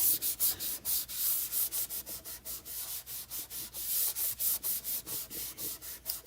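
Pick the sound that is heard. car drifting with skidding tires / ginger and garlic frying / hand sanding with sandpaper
hand sanding with sandpaper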